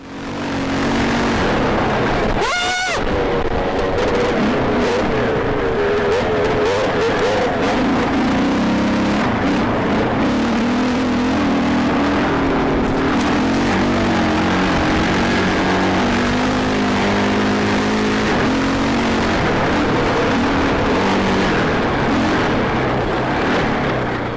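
A desert race motorcycle runs flat out at roughly 65 to 70 mph down a high-speed straightaway, its engine drone loud and continuous with heavy wind rush throughout and one sharp burst early on.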